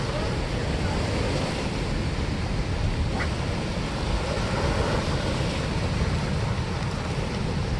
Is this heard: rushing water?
yes